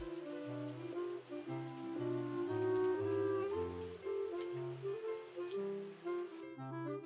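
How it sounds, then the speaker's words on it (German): Rain falling in the farming game Terroir, a steady soft patter running the whole stretch beneath layered game music, with no talking. "Es gibt Regen."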